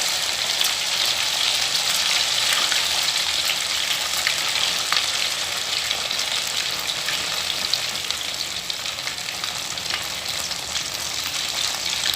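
Idli pieces deep-frying in hot oil for idli manchurian give a steady, loud, close crackling sizzle that continues unbroken for the whole stretch.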